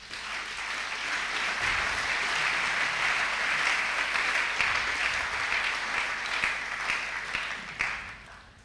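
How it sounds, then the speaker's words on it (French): A church congregation applauds and cheers in a steady, dense wash of clapping that lasts several seconds, with no one speaking over it. "Est-ce qu'on peut l'acclamer?"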